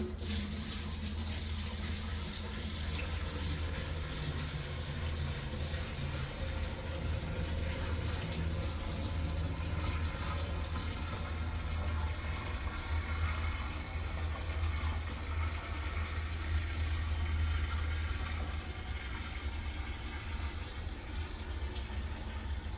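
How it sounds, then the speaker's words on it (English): Scalding hot water mixed with acid rinse pours steadily into the solution tank of a portable carpet cleaner, a constant, even rushing and splashing fill that runs without pause. "Scalding hot water and acid rinse going in."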